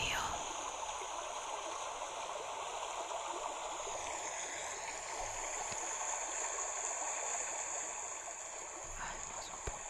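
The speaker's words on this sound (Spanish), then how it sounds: "Este es solo el del río." Continuous river stream flowing, a steady bright rushing and babbling of water heard alone, close and even throughout with no talk.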